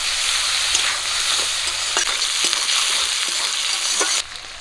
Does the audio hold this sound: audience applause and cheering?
no